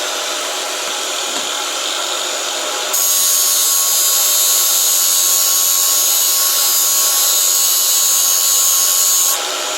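A trusty cordless drill whines steadily in a garage during a Triumph Spitfire front caliper rebuild, and its pitch rises partway through as it keeps running alone without any talk.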